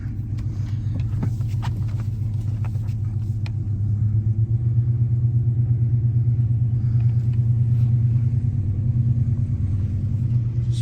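A 5.7 Hemi V8, a 2010 engine fitted into a 2011 Dodge Charger, idles with a steady low rumble, close and continuous, swelling slightly midway, with no talking.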